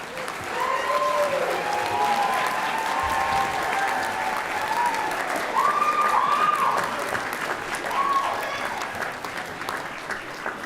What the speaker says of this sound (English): find your family, and clap for them